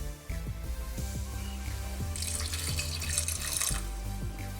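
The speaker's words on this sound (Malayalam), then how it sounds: "ഇനി ഇതിലേക്ക് നെകൊക്കെ വെള്ളം ഒഴിച്ചു കൊടുക്കാം." Water pours into a pot of jackfruit seeds and kanthari chillies for a traditional Kerala curry, a rushing splash of about a second and a half in the middle over steady low rhythmic background tones.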